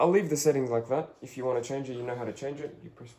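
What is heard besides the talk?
No distinct noise like a dog, phone or traffic.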